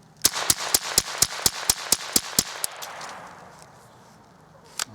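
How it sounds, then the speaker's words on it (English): A Remington Nylon 66 .22 rifle fires about ten sharp, evenly spaced shots in fast succession, loud and close, and each crack is followed by a short ringing tail before the shooting stops and a quiet pause follows. "So let's see how well it'll shoot in fast succession."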